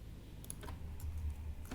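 A few faint, sparse clicks of typing on a computer keyboard, quiet keystrokes over a low background hum with no speech.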